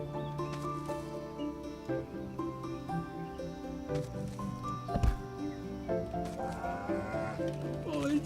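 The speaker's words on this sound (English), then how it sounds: "I have a moo cow, guys" A cow moos in the farming video game Staxel, a drawn-out nasal bleating call with a wavering pitch over soft game music, a single brief thud partway through.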